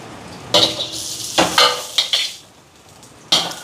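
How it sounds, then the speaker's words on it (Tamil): Onions sizzle in a pan while a utensil stirs and scrapes in several bursts, loud and close, quieting briefly before another stir. "இங்கால வெங்காயம் எல்லாம் வதங்கிட்டு பாருங்க"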